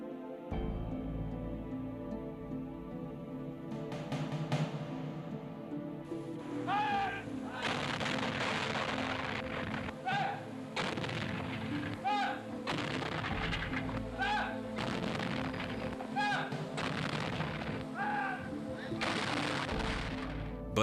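Anti-aircraft gun barrages in WWII archival footage, repeated booming blasts and rattling bursts of fire in an old, muffled recording, steady and dense throughout.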